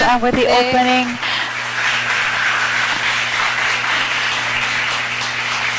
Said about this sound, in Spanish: Ambos con un fuerte aplauso